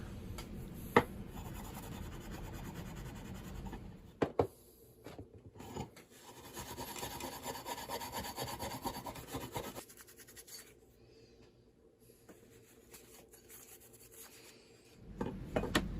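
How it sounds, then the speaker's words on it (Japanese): Steel wool rubbed with oil over a rusty camping machete blade, a dry rasping scrub in uneven strokes with short pauses and a quieter stretch near the end, close and alone. "ひどい錆はオイルをつけながらスチールウールで落としていきます"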